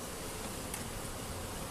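Honeybees buzz in a dense, continuous hum during a hive inspection, a faint, steady swarm drone with no talk.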